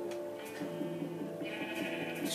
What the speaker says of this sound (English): Sheep are annoying, I just want to kill them.